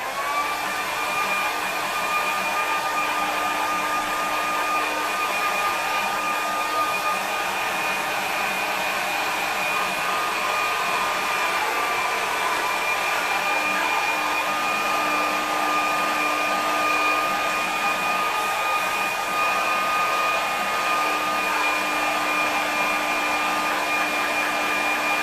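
A hair dryer running continuously to dry a watercolour painting, a steady, close whirring blow with a constant tone that holds without a break.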